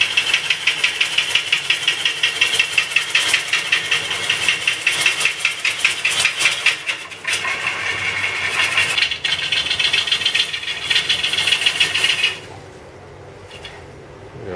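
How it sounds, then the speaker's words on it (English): A lathe spins a large wooden melody bowl (sounding bowl) that strains the machine's power, giving a loud, steady, rattling mechanical drone that fills most of the span before dropping off sharply near the end. "Lathe hasn't got quite the power needed for a piece this size."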